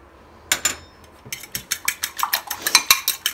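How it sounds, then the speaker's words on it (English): Eggs and milk whisked with a fork in a bowl: a quick, close series of rhythmic clinking taps against the dish, pausing briefly before settling into a steady beat, with no talk. "You're going to whisk it with a fork to combine it."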